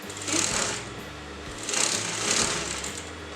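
A sewing machine runs a long basting stitch through kurta fabric in two steady whirring bursts, with a quieter pause between them; nearby and without talk.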